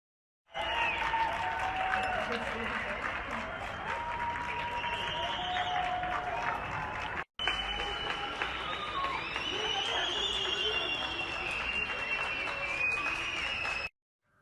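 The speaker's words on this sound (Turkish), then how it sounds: "Alkışlar sağlık çalışanlarına." Sustained applause from a crowd, steady and dense clapping with cheering voices mixed in, continuing for over ten seconds with a brief break midway.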